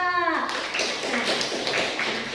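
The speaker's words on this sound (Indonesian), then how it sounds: "tepuk tangan buat kelompok 2" A classroom of students claps for group 2 during an Indonesian school lesson, a brief burst of scattered hand claps following a short tonal ring at the start.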